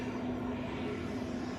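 An airplane taxis at Zurich airport, its engines producing a steady, even drone with a sustained hum, heard from a distance and without voices.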